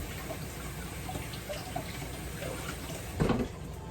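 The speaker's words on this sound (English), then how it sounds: "Let me rinse off this onion." Tap water runs softly into a kitchen sink as an onion is rinsed, a faint continuous trickle with a brief louder splash near the end.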